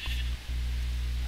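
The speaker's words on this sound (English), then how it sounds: "It's a sheep farm." Sheep in Minecraft giving a short bleat, a low droning call heard close and clear against a quiet background.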